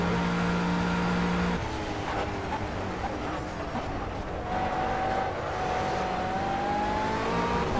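A GT3 race car engine in the Project CARS racing game roars steadily during a long race in Spain, a loud continuous drone whose pitch climbs and shifts as the car accelerates.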